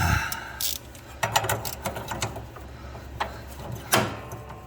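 Bolts on a John Deere 240 mower being tightened with a ratchet, a series of quick clicking bursts at an uneven pace, close by and fairly quiet.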